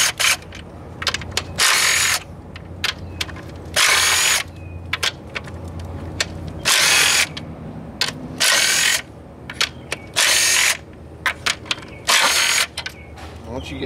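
Ratchet wrench loosening bolts on a Chrysler 300 3.5 engine, with repeated bursts of rapid clicking separated by brief pauses and occasional metallic clanks, close and loud.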